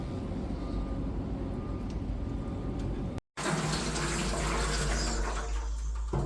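Water pours steadily onto garden plants in a continuous close rushing splash, broken by a brief gap midway, then resuming slightly louder and fuller.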